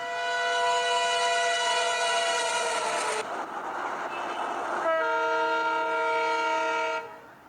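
A loud train horn sounds in two long harmonic blasts separated by a rumbling, noisy passage, set at a railway station, with no voices present.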